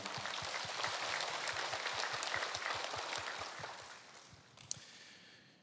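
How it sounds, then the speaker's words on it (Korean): A large congregation claps together in sustained applause that gradually fades away near the end. "우리 감사와 영광의 박수 올려드리겠습니다"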